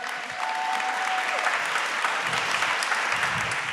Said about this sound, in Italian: fate un altro applauso per favore